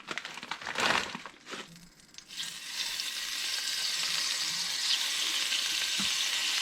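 Steak strips for steak sandwiches fry in a hot pan, a few brief crackles and stirring noises giving way to a steady, continuous sizzle that fills the rest of the clip with no talking.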